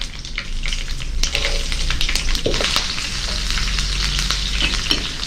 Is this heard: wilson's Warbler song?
no